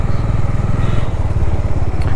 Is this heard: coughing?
no